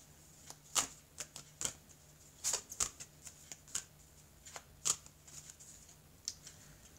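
Oracle cards shuffled by hand for a reading, giving a sparse run of crisp snaps and soft rustles at an uneven rhythm, close and fairly quiet over a faint steady hum.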